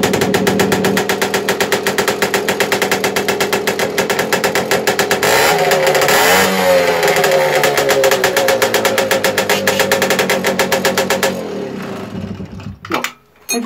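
A Romet Ogar moped's two-stroke engine fires up and runs loud and close with a rapid, rattling putter, rising in a rev midway before cutting off near the end.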